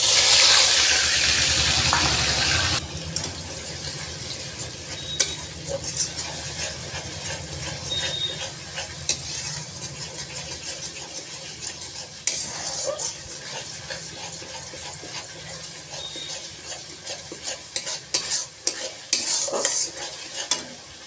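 Spice paste hits caramelized sugar in a pan with a sharp burst of sizzling, then the frying settles into a softer hiss under repeated stirring scrapes and clanks.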